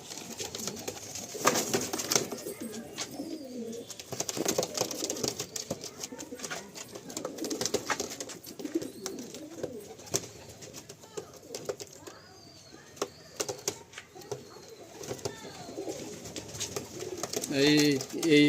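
Chotiyal pigeons released at close range, with scattered soft cooing and brief wing flutters over a busy background, while people talk intermittently throughout.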